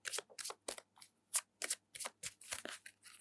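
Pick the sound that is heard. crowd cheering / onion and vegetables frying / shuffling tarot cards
shuffling tarot cards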